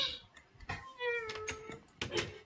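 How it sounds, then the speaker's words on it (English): A Minecraft cat meows in the game, one drawn-out rising-and-falling mew followed by shorter ones, fairly quiet and mixed with faint background noise. "She wants a kiss every time she meows."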